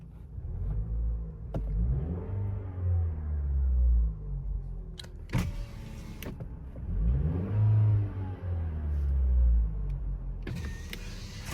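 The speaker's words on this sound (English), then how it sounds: "I'm gonna rev the engine" A 2024 Lexus IS300 RWD sedan's engine revs twice from idle, each rev swelling smoothly and falling back, heard close and fairly quiet with sharp clicks between the revs.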